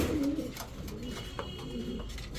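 High-flyer racing pigeons coo close by, with two soft, throaty coos rising over a low background hum.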